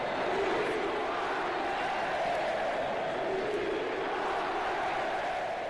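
A football crowd in a stadium sings and chants after a Cruzeiro penalty shootout win in the Copa do Brasil, a broad sustained roar of many voices heard from a distance, steady and unbroken.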